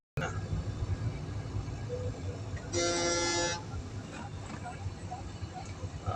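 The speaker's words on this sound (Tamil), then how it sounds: "பஸ் ஹார்ன் அடிச்சு அடிச்சு போற" A single loud bus horn blares for about a second amid steady road and engine noise inside a moving car.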